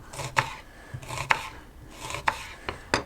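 A knife chops bell peppers and tomatoes on a board in a loose rhythm, about half a dozen crisp knocks with soft slicing sounds between them.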